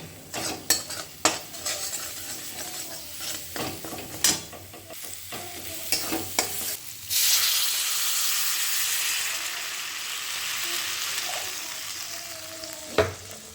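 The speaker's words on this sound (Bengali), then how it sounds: "এবার আমি এর মধ্যে দিয়ে দেবো জল।" Water is poured into a wok of dried, fried spice paste for a village-style fish and potato curry, setting off a loud, steady hiss and sizzle that runs for several seconds after scattered stirring and scraping clatters.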